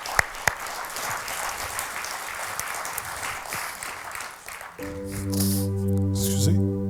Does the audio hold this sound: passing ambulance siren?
no